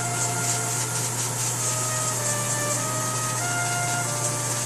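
Airbrush hissing continuously while spraying paint onto model castle roof tiles, a close, steady airy spray with a constant compressor-like hum beneath.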